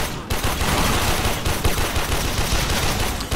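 Sustained automatic gunfire in Warframe co-op play, a loud, dense stream of shots with scarcely a pause, close and with no voices over it.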